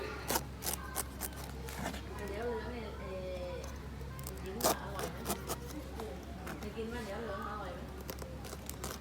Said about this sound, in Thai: วิธีที่2นะคะ คือให้เจาะ เจาะเป็นสามเหลี่ยม